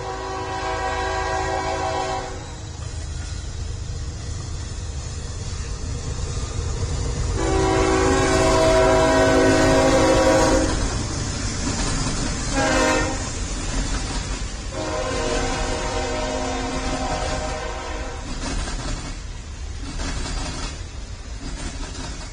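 Locomotive running in a railroad video game, a steady rolling rumble with several loud horn blasts sounding alone and close, no talking.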